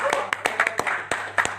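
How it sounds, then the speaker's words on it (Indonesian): Scattered, uneven hand claps from a small group at a public hearing of regional legislators in Bombana, fairly close, with a steady low hum beneath and some voices murmuring. "Tepuk tangan dulu."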